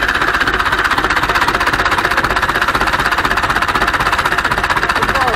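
Ursus C-360 tractor diesel engine idling at low revs, loud and close, a steady fast knocking chug that holds evenly throughout with no talking over it.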